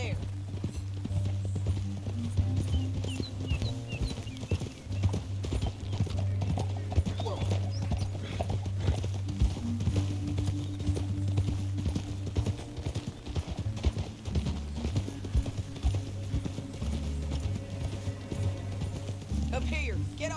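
Continuous rhythmic clip-clopping of horse hooves in Red Dead Redemption 2 over a music-like bed, with occasional whinnies and speech woven in throughout.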